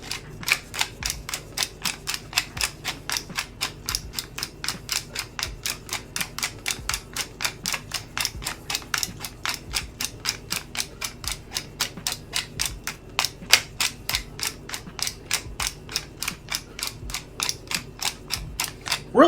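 A pepper grinder crunches peppercorns in a steady run of sharp, regular ticking clicks that carries on for many seconds, close and clear, with no talking.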